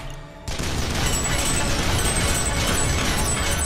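Dense gunfire from the video game EDF6 erupts after a short quiet lead-in, a continuous loud barrage of shots and crashes with no talk.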